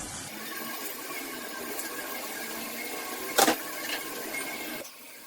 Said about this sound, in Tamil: மோமோஸ் செஞ்சு வச்சுருந்தோம்லே அதை வந்து ஃப்ரை பண்ணி எடுத்துடலாம்